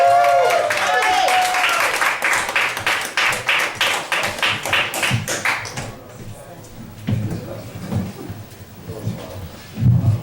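A comedy club audience at a stand-up night claps and cheers for a comedian being introduced, a dense burst of applause that thins into scattered claps as a voice takes over.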